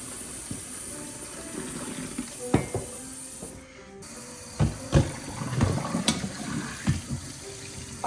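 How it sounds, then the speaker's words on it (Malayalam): Tap water runs from a pipe into a sink in a home kitchen, a steady faint splashing with a few clinks of vessels, heard alone. "പൈപ്പ് വെള്ളം."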